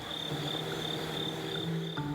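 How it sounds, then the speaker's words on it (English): Crickets chirp steadily at dawn, a constant high pulsing trill with a low hum beneath, no talking. "The moonlight's surrender to daylight lets Christina Hunter run while the crickets roar."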